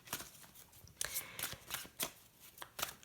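Tarot cards being shuffled by hand, several crisp riffling bursts with short pauses between them, quiet and close with no talking.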